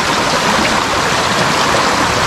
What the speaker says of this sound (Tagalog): Ang ganda ng ilog na ito